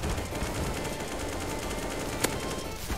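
AK rifle fired in a video game, a steady rapid burst of automatic gunfire with one sharper shot standing out, loud and continuous for the whole stretch.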